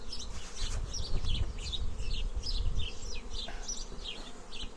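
Honeybees buzz around a six-frame nucleus hive with a polystyrene foam body, making a steady, moderately close droning hum outdoors, with faint high chirps scattered above it.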